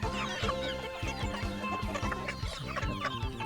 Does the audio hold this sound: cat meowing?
no